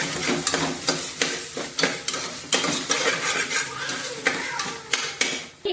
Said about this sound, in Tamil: உப்பு சேர்த்து நல்லா வதக்கிக்கோங்க